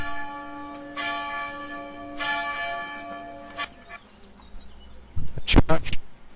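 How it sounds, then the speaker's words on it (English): Church bells in a hilltop village above the river Lot in southwest France ring out in a few long, resonant strokes from a distance, fading away before a brief burst of closer outdoor noise. "Church ringing out bells for a service of some description"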